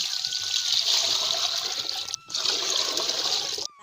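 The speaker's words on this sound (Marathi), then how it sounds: "आता पाणी ओतून घेऊ" Water pours steadily into a pot already holding oil, with a rushing, splashing sound, broken by a brief pause before the stream resumes.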